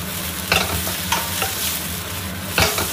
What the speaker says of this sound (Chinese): 四季豆要给它多边炒一会儿